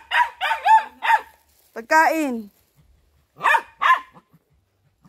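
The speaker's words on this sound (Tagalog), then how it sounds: "Ang ingay ng mga aso." Several dogs bark in short yelping bursts near the start and again later, close and loud, with a person speaking briefly between the barks.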